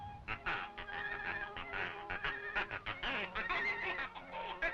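A man imitates a duck with his voice, giving a rapid run of loud, nasal quacks and honks that carries on without pause.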